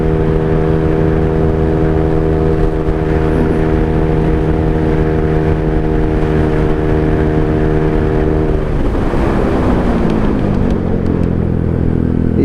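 A Honda Beat Deluxe 125 cc scooter fitted with a 50 mm piston, carrying a 96 kg rider, drones loudly and steadily up close while cruising, then its pitch slides down as it slows.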